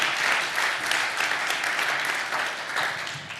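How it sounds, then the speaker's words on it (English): An audience applauds steadily, a dense wash of clapping hands that holds for a few seconds and tapers slightly at the end. "Everyone clap, please."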